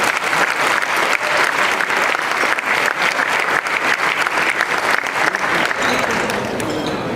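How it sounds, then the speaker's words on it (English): Sustained applause from a crowded room at a fundraising dinner honouring volunteers, steady and dense throughout with no break. "Let's give them another round of applause."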